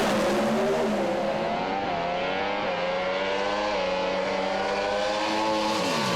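Pro Stock drag racing cars at Willowbank Raceway accelerating under lights, a loud sustained engine howl with pitch climbing and dropping as they shift through the gears, distant and continuous with no talk.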